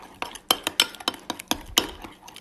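Ketchup and brown sugar stirred together in a bowl with a utensil, giving a series of close, clinking scrapes against the bowl in an irregular rhythm, with no talking.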